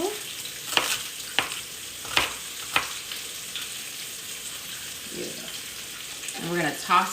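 Sliced onions sauté in a pan with an even, hissing sizzle, broken by a few sharp, spaced taps, and a voice speaks briefly near the end.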